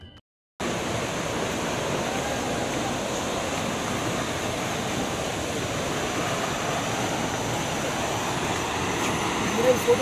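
Soochipara waterfall in Wayanad heard from a distance, a steady broad roar of rushing water that begins abruptly after a moment of silence and holds at an even level.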